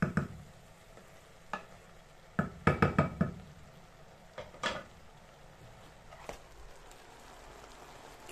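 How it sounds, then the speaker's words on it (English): Cabbage cooking in a pot is turned over with a few scattered knocks and stirring scrapes, including a quick cluster of clatters, over a quiet simmering hiss. "Just turn over the cabbage a while ago"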